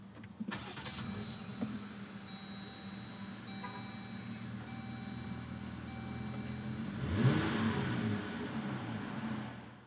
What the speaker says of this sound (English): to start it up, you just put your foot on the brake, hold it, and push this button right here